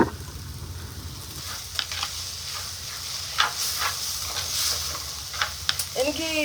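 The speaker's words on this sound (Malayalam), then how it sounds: "നന്നായി ഇളക്കി കൊടുക്കാം." Crushed ginger and garlic frying in a pan as they are stirred, giving a continuous sizzle under a low background hum with repeated short spoon scrapes and clinks. A faint bird-like chirp comes at the very end, and no one speaks.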